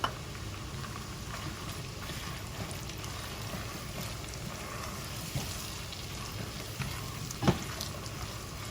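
Chicken mince frying in a pan, a quiet continuous sizzle and crackle with occasional light scraping clicks, steady and close.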